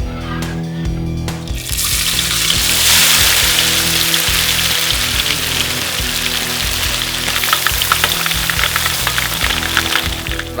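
Fish meat floss (abon) mixture is stirred in a hot pan, giving a continuous sizzle with scraping and stirring noises throughout. There is no talking.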